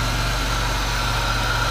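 A 2001 Chevy Monte Carlo SS with a 3.8 liter V6 idling, giving a steady, close, even low rumble with a faint pulsing beat and no talk.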